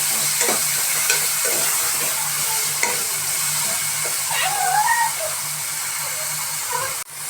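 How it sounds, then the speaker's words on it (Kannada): Vegetables and spices for a veg biryani frying in a pan, a dense continuous sizzle with scraping stirs and a few soft clinks, close up and without speech. "ಈ ಥರ ನೀಟಾಗಿ ಫ್ರೈ ಮಾಡ್ಕೊಳ್ಳಿ"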